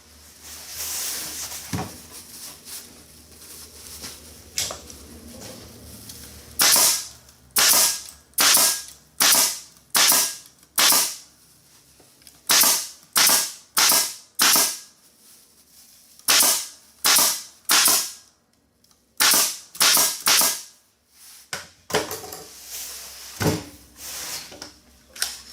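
A toy cap gun fires a long run of sharp, loud cracks, mostly in quick bursts with short pauses between groups, close and dry against a quiet background.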